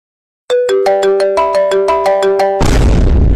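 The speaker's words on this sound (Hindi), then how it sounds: "जहे टोन लगी है संतोषक फोन" A mobile phone ringtone plays loud and alone, a bright repeating chime melody of about a dozen evenly spaced notes, ending in a burst of noisy, distorted sound.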